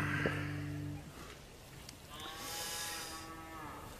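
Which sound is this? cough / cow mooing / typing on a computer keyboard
cow mooing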